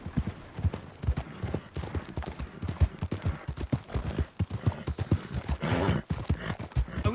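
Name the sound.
horse hooves clip-clopping pulling a cart in a video game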